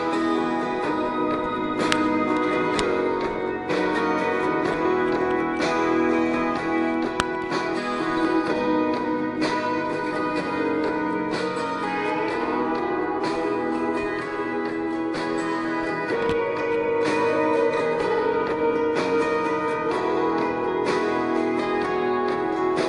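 Country song by an aspiring singer, a full steady band mix with sustained harmonic instruments at a constant loud level throughout, no speech over it.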